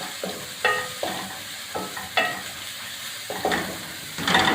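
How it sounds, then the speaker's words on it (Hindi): Green chillies fried in a pot while preparing lamb pulao: a steady sizzle with repeated scraping stirs of a spatula against the metal, roughly one every half second to second, no voices. "हरी मिर्चें शामिल करूँगी, थोड़ा इसको फ्राई करेंगे।"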